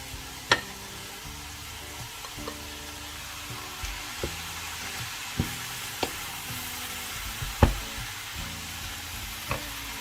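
Carrots, tomatoes and mushrooms fry in a pan for a budget detox meal, giving a soft steady sizzle with a few sharp clicks and taps of a utensil against the pan, close and alone without talk.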